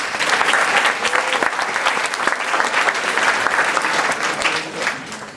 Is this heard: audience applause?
yes